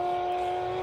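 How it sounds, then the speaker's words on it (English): A classic car fitted with a Capristo exhaust at the Simola Hillclimb holds a steady, sustained engine drone, moderately loud and unbroken, with no voices over it. "It sounds like a Capristo engine"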